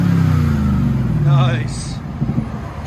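A car fitted with aftermarket exhaust tips revs, its low engine drone rising and falling steadily up close, with a voice talking over it partway through.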